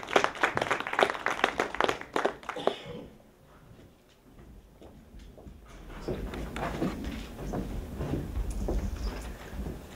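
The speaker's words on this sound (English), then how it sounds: "All right, give Shario a round of applause." Audience applause for a contestant at the 2015 African Union Expo contest: a burst of clapping for about three seconds that fades into quiet room noise, then a voice starts speaking.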